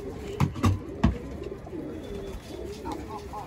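Pigeons coo in a loft, giving a few low, soft, throaty calls close by in the first second. Quieter cooing and faint rustling continue after that under steady background noise.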